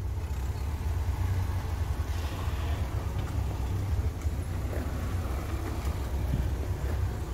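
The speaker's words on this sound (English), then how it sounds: "Just hear that burble from that car" A Ford Anglia's Kent crossflow engine idles with a low, rumbling burble, steady and moderately loud, with some wind noise outdoors.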